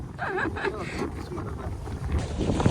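Boat on water with rushing wind and water noise, while voices talk over it throughout; a steady rumble sits underneath.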